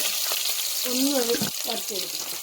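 Ginger and garlic fry in a pan for a Kerala fish curry, a steady close sizzle running throughout with a brief stirring clatter.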